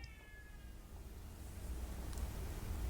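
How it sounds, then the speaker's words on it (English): A cat meows outside a window: a faint, thin meow near the start, then a quiet, low background rumble with no talking. "do you guys hear that meowing outside of my window?"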